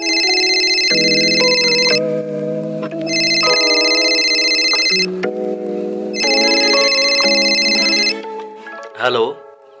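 A telephone rings in repeated electronic bursts, each about two seconds long with short gaps between them, loud and close, in a Hindi-dubbed South Indian film scene, with a short voice-like sound at the end.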